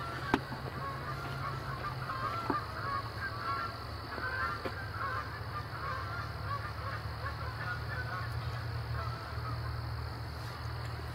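Geese honk faintly in the distance across a pond over a steady outdoor hum, with a few sharper calls and clicks scattered through.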